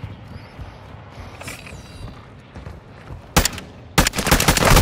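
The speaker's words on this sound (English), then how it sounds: "Taking effective fire" Gunfire in the video game DMZ: muffled distant shots and movement, then two loud close bursts of automatic fire near the end.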